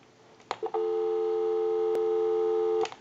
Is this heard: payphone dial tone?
yes